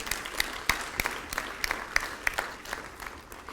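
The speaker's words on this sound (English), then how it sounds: "He deserves a huge round of applause before any one of us," An audience at a research excellence awards ceremony claps for the university's Vice Chancellor, a moderate round of applause with distinct, regularly spaced claps standing out above the group.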